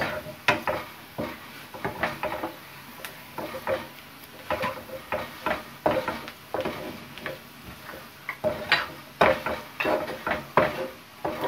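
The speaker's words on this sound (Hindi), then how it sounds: "Şimdi bunu karıştırıyoruz" Chicken patty filling stirred in a pan at home, giving steady close wooden-spoon clicks and taps against the pan in an uneven rhythm, with no talking.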